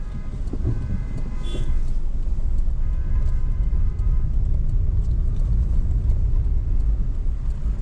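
A steady low rumble of vehicle traffic jammed at a tunnel on the Malshej Ghat mountain pass road, engines idling and moving nearby, with a faint high whine briefly rising above it.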